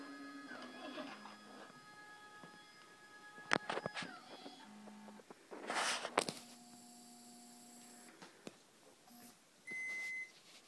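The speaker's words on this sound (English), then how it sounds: "Beeps when it gets to the target" A SkyWatcher AZ-EQ6 telescope mount beeping as it reaches its target, with short electronic tones and clicks among a mix of motor whine and handling noise, close and quiet.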